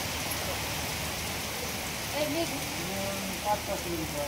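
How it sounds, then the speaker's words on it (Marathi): Heavy rain falls steadily at a temple, a dense, even patter filling the background, with faint voices briefly rising over it. "खूपच पाऊस येऊन राहिलाय."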